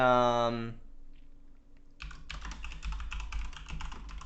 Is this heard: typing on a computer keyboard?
yes